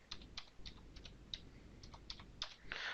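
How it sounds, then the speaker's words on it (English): Scattered keystrokes on a computer keyboard, about a dozen light clicks at an uneven pace, close and quiet. "So if we type that again"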